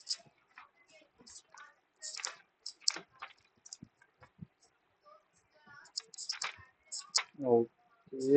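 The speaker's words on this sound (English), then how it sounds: "Someone is typing." Computer keyboard typing heard over an online call, irregular bursts of quiet clicks scattered across several seconds, faint and intermittent, with a voice speaking near the end.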